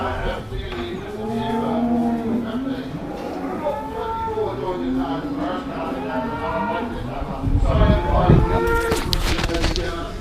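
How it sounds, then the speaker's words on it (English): Cattle at a livestock sale moo repeatedly, several drawn-out calls overlapping one another, loud and close, with the busy sale-barn background and a burst of clatter near the end. "A lot of cows to sell."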